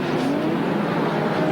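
Touring race car at the Bathurst circuit in the 1992 Bathurst 1000, number 76 running down the Subaru Straight, a loud continuous engine drone with a steadily rising pitch, close and unbroken.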